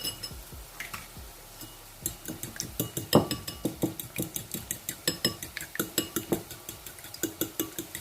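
Eggs are whisked in a bowl for an omelette, a fast steady series of close, clicking taps of utensil against the bowl that keeps a brisk rhythm, with no talking.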